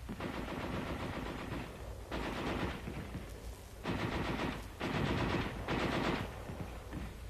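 Heavy machine gun firing in the field, several long rattling bursts of rapid automatic fire separated by short pauses, loud and steady throughout.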